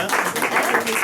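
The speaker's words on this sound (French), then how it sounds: "je vous demande de l'applaudir" A brief burst of dense audience applause at a slam poetry evening in a Nice cellar bar, loud and close, clapping continuously without pause.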